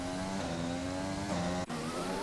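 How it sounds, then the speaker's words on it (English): A Formula 1 car's Honda engine whines at high revs in a racing video game, a steady buzzing drone with a brief gear-shift dip near the end, heard without any talking. "you can hear the Honda engine, the meaty Honda engine"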